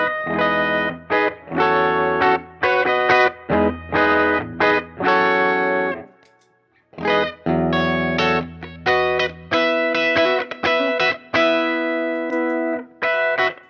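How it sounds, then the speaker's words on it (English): Electric guitar plays bright, sustained chords in bursts through an EHX Analogizer analog echo filter pedal, repeats trailing off between phrases, with a short pause midway. "The blend blends between your dry guitar signal and a kind of low cut, high cut kind of sound"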